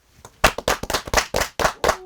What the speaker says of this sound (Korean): 그리고 박수 시작할까요?